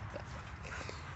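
Puppies eating treats of chicken-flavored snack crackers, a steady close mix of low chewing and snuffling noises with faint whimpers and yips, without any speech over them.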